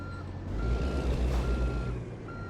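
A truck's reversing alarm beeps at an even, repeated pace over a low idling engine rumble, in the American Truck Simulator video game.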